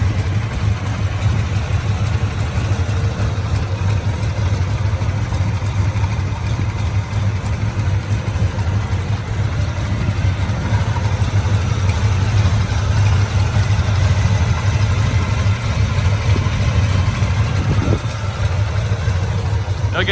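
A 1967 Chevrolet Chevelle SS's 396 big block V8 idles, a low steady rumble that holds even and loud for the whole stretch.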